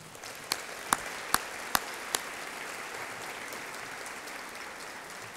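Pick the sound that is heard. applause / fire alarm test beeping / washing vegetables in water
applause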